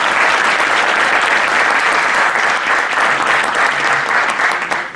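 A full audience at a university poetry recital breaks into loud, sustained applause, dense and even from start to finish with no voices rising above it, tapering slightly at the very end.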